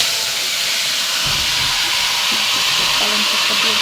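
Spinach going into a hot pan with fried fish, setting off a loud, steady hiss of sizzling and steam that carries on throughout, with a faint voice briefly underneath.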